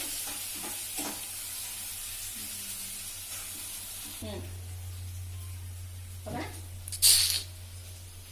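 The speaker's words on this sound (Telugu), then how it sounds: "వెల్లుల్లి, కరివేపాకు అన్ని ఫ్రై అవ్వాలి" Garlic and curry leaves fry in a pan with a steady sizzle, broken by occasional stirring scrapes and a brief hiss near the end, while a low hum runs underneath.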